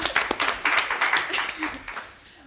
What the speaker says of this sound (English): Another round of applause for the artists.